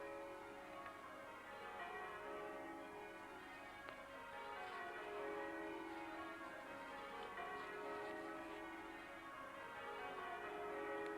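Several church bells peal continuously in an overlapping ringing pattern, bright and resonant, with no voices, the tones layering and decaying into one another.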